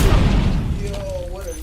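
A grenade goes off during a Call of Duty match, a loud deep boom that rolls off into a fading low rumble, with game sounds behind it.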